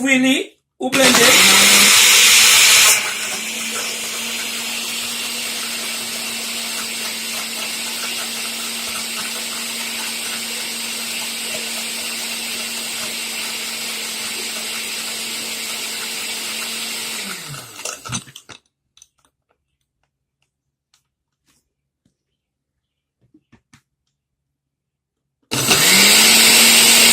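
A kitchen blender whirs into action after a brief noisy start, holding a steady high motor whine for about fifteen seconds before winding down and cutting off, leaving near silence until a loud burst returns at the very end.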